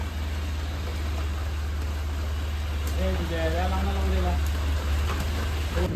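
Steady, heavy rain hisses throughout over a low engine rumble near Hadapsar and Magarpatta, Pune, with a voice speaking briefly in the middle.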